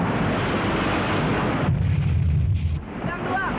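A heavy boom from a ship's cannon shot in an Indonesian drama film cuts through a roaring, noisy background, followed by a low rumbling aftermath.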